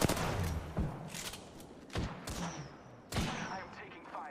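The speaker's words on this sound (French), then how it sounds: "Je comprends pas où mes balles vont avec cette arme de noob là" Gunfire from a weapon in the video game Apex Legends: several short, punchy shot bursts, loud and close, with muffled thumps in a noisy game mix.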